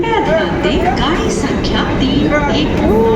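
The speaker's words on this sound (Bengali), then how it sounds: "চলে গেল মেট্রো মেট্রো" At a busy station, a metro train rumbles away loudly and continuously while people's voices carry over the noise.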